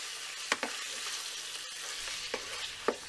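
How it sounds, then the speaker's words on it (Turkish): Meat sautéing in hot oil over high heat, a soft continuous sizzle punctuated by a few sharp scrapes and knocks of a utensil stirring in the pan. "kızdırmış olduğumuz yağda yüksek ocakta sürekli karıştırarak etlerimizi kavuruyoruz"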